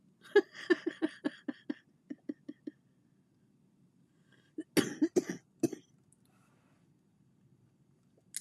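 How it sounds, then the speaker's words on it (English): A run of quick, rhythmic coughs, close and fairly loud, followed after a pause by another short burst of harsher coughing. "with me with this coughing"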